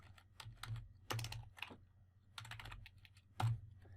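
Typing on a computer keyboard, with short clusters of light key clicks and a few heavier taps, close and quiet, with no talk.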